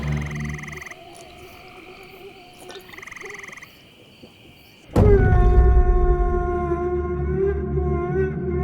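Frogs croaking at night in a Kerala village setting, a few quieter calls at first and then a sudden loud, close chorus of sustained, buzzing croaks that continues to the end.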